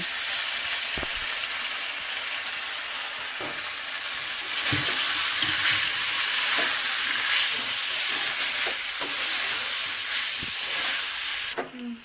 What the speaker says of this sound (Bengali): জল ঝরানো সাবুটাকেও আমি একটু ঘিয়ের সাথে ভেজে নেব